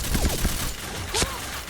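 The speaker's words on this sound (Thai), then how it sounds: "ก็แค่เรายิงศัตรูอ่ะยิงศัตรูไว้อย่างเมื่อกี้" Gunfire in the online shooter game Point Blank: a quick cluster of close, sharp shots followed by a single louder blast, with game sound effects around them.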